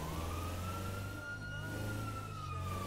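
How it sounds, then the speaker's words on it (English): Emergency vehicle siren in a GTA role-play video game, a faint, slowly gliding tone heard at a distance over a steady low engine rumble, without speech. "I hear sirens."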